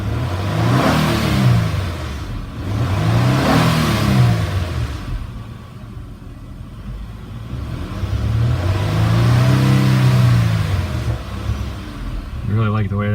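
A 2014 Nissan Maxima SV with a 3.5-liter VQ V6 revs up in a few swelling bursts, its exhaust note rising and falling close by, with someone talking over the engine between revs.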